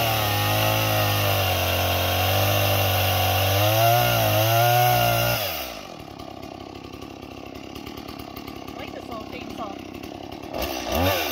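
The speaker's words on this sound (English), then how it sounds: "Get to try out the new chainsaw today." A small chainsaw runs at a steady high whine and bogs slightly as it cuts wood during Alaskan land clearing, then cuts off abruptly, leaving quieter outdoor rustling and faint sounds afterward.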